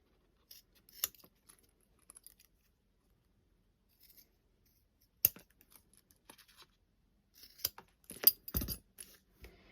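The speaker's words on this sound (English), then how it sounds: "You now need to trim off your zipper tabs so they are the same width as your zipper." Scattered sharp snips and clicks from scissors trimming fabric zipper tabs, a few isolated cuts followed by a quicker cluster near the end, close by with no talking.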